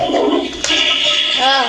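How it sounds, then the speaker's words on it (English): A Toilet Trouble toy plays its flushing sound, a loud rushing, swirling water effect with a gurgling finish, while a voice speaks briefly over it. "Every time when you flush that poop, that's the sound you hear"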